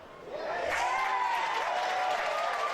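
Spectators at an AFL under-19 grand final in Sydney applaud a goal, a swelling wash of clapping and crowd noise from the stands, with a commentator's voice running over it.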